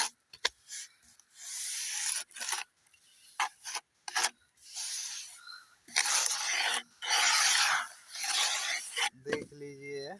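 Hand tool rubbed over a fresh cement chhajja molding to smooth it, giving repeated rasping, scraping strokes in uneven bursts with short pauses, close and fairly loud, and a voice briefly heard near the end.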